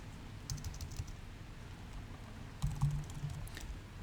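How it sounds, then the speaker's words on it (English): Light tapping on a computer keyboard in a quiet room, coming in short irregular bursts of keystrokes with pauses between. "this is a formula that I'm typing in"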